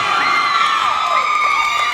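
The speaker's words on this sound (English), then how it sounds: "we have an absolutely banging crowd right now" An excited crowd at a VEX IQ robotics qualifier in Lincoln County, West Virginia cheers and shouts, with high children's voices whooping together in a loud, sustained burst.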